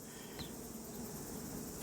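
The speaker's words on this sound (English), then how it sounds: "this is a frame of bees, and in here is the queen." A steady, dense insect buzz fills the clip, a continuous hum of many honey bees on a hive frame heard up close.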